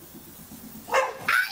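Small dog giving two sharp, fairly close barks after a short stretch of quiet background.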